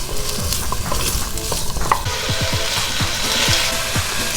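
Onions and carrots fry in a soup pot, a steady close sizzle with repeated scraping stirs and knocks of a wooden spoon throughout, no voices.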